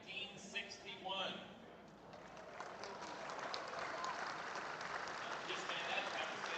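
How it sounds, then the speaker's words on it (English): Applause at a 2025 Waynoka all-school reunion for two former-class guests builds into a steady, dense wash of clapping from a crowd, filling the room after a brief moment of chatter at the start. "let's give a big round of applause"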